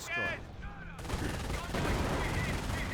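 Dense gunfire from a Company of Heroes battle, an MG42 machine gun raking the field amid wider shooting, loud and continuous after a brief lull, with game sounds layered beneath.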